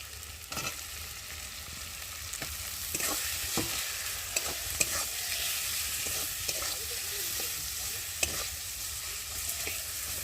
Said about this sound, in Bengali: হলুদ লঙ্কার গুঁড়ো আর নুন দিয়ে মশলাটাকে ভালো করে একটু কষিয়ে নেব